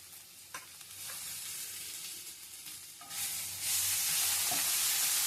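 Cardamom, cumin, coriander leaves, curry leaves and mint fry in oil in a pan, a soft steady sizzle with a few stirring taps, swelling louder and brighter toward the end.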